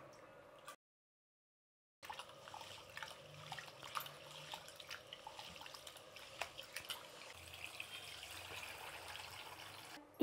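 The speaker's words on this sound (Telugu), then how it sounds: "ఇప్పుడు బియ్యం 2-3 సార్లు కడిగి బియ్యం నానబెట్టుకుందామండి" Rice is rinsed in water before soaking, with close splashing and swishing of grains and water in a vessel following a brief silent gap, moderately quiet and without speech.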